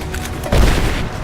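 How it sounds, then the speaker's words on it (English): A grenade blast in the Rise of the Tomb Raider video game, a sudden heavy boom midway through, preceded by softer rumbling gunfire-like noise and trailing off quickly. "Grenade out!"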